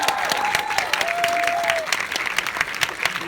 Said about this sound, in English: Let's have one more round of applause for the terrific and amazing Icon of Life.